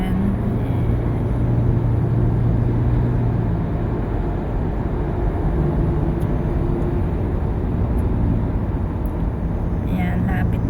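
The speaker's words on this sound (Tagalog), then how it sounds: "driving lang po ako going to Abu Dhabi" A car drives along a busy road toward Abu Dhabi, giving a steady, loud rumble of engine and tire noise throughout with no pauses.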